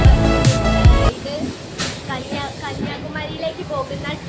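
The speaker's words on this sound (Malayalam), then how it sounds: "കന്യാകുമാരിയിലേക്ക് പോകുന്ന ട്രെയിനാണ്." A train bound for Kanyakumari from Nagercoil Junction, heard as a loud horn blast and rumbling start, then steady hissing rolling noise with a voice talking over it.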